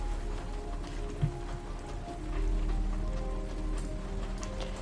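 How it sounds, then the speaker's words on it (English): Steady rain falling in the game Detroit: Become Human, a soft, continuous patter on surfaces with a low ambient rumble and no talk. "And hey, I love listening to the rain."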